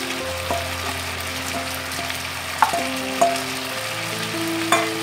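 Chicken gizzards, liver and cow skin frying in a spiced stir-fry pan, a loud steady sizzle with a few sharp knocks and scrapes of stirring, a low hum underneath, no talk.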